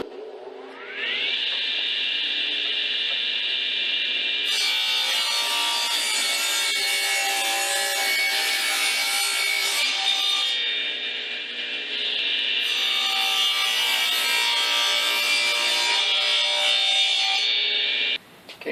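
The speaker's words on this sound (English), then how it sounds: "next we'll just trim up the sides, make it nice and square" Wood is sawn to trim the sides square, a steady high rasping sawing sound that stays up close, runs almost continuously with one brief dip midway, and stops abruptly at the end.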